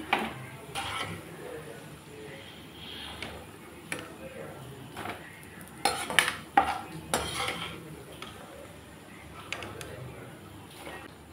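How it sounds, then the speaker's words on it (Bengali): Fried kuchō nimki snacks being lifted out of a hot pan, with scattered metallic clinks and scrapes of a utensil against cookware at varying intervals over a low kitchen background. "এখন আমি উঠিয়ে দিচ্ছি একটু লালচে গরম করে।"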